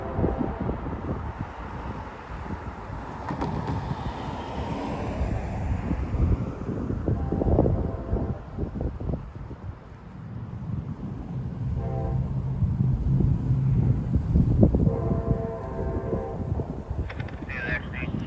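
A CSX locomotive leads a train past a trackside spot in Plant City, Florida, with a loud, heavy rumble and clanking wagons that builds and then fades, horn blasts and strong wind buffeting the microphone.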